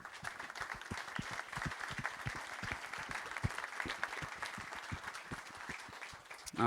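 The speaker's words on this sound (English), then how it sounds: "can we have a round of applause for those that are in attendance today" Audience at a press conference for the Iron Dames equestrian launch applauding attendees and dignitaries, a light, sustained spread of individual claps at moderate distance, fairly soft and ending with a louder burst.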